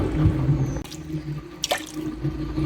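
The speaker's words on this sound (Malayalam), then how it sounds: "ആവശ്യത്തിന് വെള്ളം കൂടി ഒഴിച്ചു കൊടുക്കാം" Water poured into a cooking pot for a Kerala-style buttermilk curry, a steady watery splash with dripping at close range, broken by a brief clatter midway.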